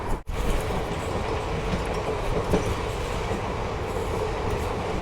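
A diesel passenger train rolls along the rails with a continuous rumbling roar and faint rhythmic clatter, heard steadily from inside a carriage on the Khagaria to Alauli line in India, with no talking.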